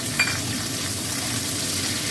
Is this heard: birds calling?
no